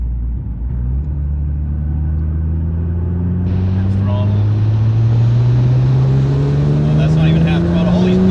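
A Nissan GT-R with new injectors and a stage 3 tune accelerates in fifth gear, its loud engine drone climbing steadily in pitch throughout the pull, with road and wind noise building behind it.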